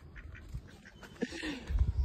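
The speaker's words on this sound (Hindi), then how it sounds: "और रिया बतख।" Duck quacking outdoors, a few short quacks spaced irregularly over faint background noise, with a low rumble toward the end.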